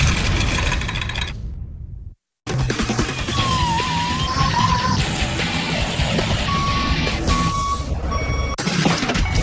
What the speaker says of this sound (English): Kelly, move that truck.